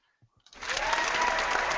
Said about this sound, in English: Thank you for that lovely welcoming round of applause.